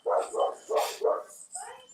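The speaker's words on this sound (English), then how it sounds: "This fucking dog pisses me off." A dog barks about five times in a loose series of sharp, moderately loud yaps heard in a room during a post-fight show, with short gaps between the barks.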